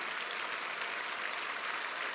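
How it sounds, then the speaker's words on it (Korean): A church congregation applauds, a dense, even patter of clapping that goes on for a couple of seconds at moderate volume with no voices over it. "박수로 한번 영광 돌리시죠."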